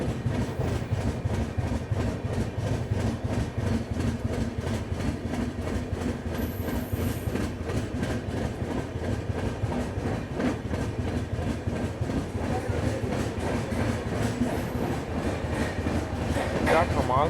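An Ahmedabad–Mumbai double-decker express train runs at speed, filling the interior with a continuous loud rumble and rhythmic wheel clatter, with faint speech beneath it.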